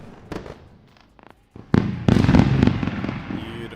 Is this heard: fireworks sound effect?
yes